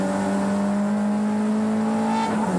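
Nissan race car at the 1987 James Hardie Bathurst 1000 screaming loud and steady under acceleration, a sustained high engine note that climbs through a gear and shifts near the end.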